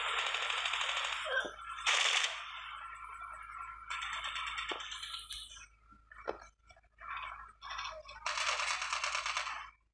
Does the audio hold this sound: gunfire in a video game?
yes